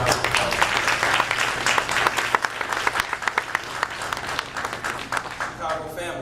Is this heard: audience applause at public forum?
yes